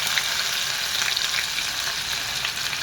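Cumin and mustard seeds sizzle steadily in hot oil, a dense, continuous crackle and hiss that holds at an even loudness from start to finish, close up and with no voices.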